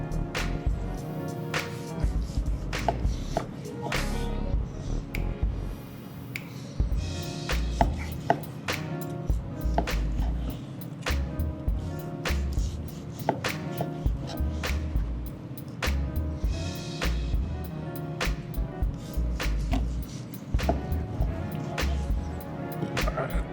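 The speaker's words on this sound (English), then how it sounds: "So we're gonna get some nice thin slices to put on the sandwiches." A knife cuts smoked picanha into thin slices on a board, giving a long run of steady, close chopping strokes at an even rhythm with brief pauses between them.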